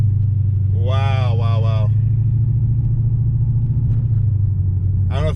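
An Infiniti Q45 with a swapped M45 transmission controller accelerates hard, its low engine rumble steady and close throughout while a man exclaims excitedly over it.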